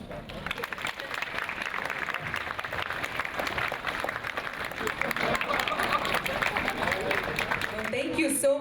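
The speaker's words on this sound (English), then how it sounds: "I think they wouldn't mind an applause." Conference audience applauding, a sustained wash of clapping from a large hall, moderately loud and even, with murmuring voices underneath.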